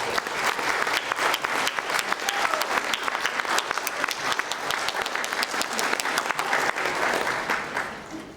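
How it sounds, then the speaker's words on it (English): A large audience applauds at a symposium opening ceremony in Malaysia, with steady, dense clapping sustained throughout and fading slightly at the end. "I now want everybody else to join me in a huge round of applause"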